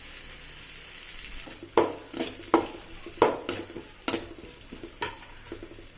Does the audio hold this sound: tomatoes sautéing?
yes